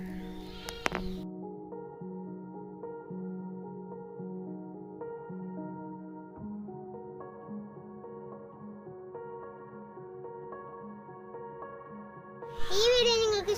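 Goats on a low-cost goat farm give faint, drawn-out bleats one after another, with a short louder noisy burst at the end.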